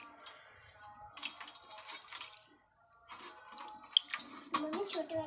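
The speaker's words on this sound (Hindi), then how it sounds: "गुनगुने पानी से करा रही हूँ कानों को स्नान अपने को।" Lukewarm water poured over a small deity idol during a morning puja bath at home, splashing and trickling in uneven bursts close by, with brief pauses between pours.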